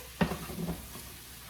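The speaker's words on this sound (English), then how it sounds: "while the sausage and the onion are cooking and marinating in the flavor" Sausage and onion tossed in a pan give one sharp clatter of a stir, then a soft sizzle and a few faint scrapes before settling into quiet frying.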